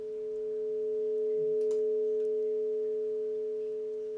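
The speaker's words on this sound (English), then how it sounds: "like it'll be like a UFO passing over" Slow synthesized sine-like tone shaped by an envelope, swelling up and fading like a UFO passing overhead, a steady hum with a faint chirp near the middle.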